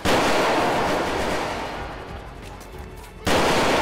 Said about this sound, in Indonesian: Dia langsung nembak, guys.